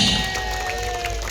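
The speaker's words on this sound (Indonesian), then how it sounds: "Tepuk tangan sama-sama." A crowd claps together at the Bakul Fest culinary festival in Banjarmasin, steady broadband applause mixed with outdoor crowd noise and faint tonal hum, sustained and fairly even throughout.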